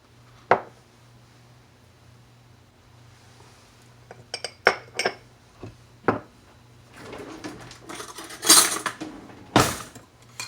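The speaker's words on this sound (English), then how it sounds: "And you just mix that up." Clinks and scrapes of utensils against a mixing bowl as sugar and cinnamon are stirred together for an apple cake, several sharp taps scattered at first, then a busier cluster of scraping and knocking toward the end.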